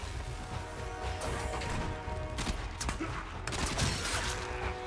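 Gunfire from shooting enemies in the Warframe video game, playing as Inaros: repeated sharp cracks and clattering impacts in uneven bursts over a steady game background, fairly loud and close, with no talk.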